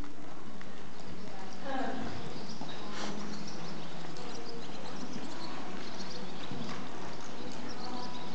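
Hooves of a horse loping and jogging, moving through a lope to extended jog transition, with soft rhythmic footfalls, a few snorts and sniffs, and a person talking over the sound.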